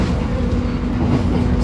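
Steady low rumble of a train interior while riding, a continuous drone with a faint hum throughout and no distinct clacks.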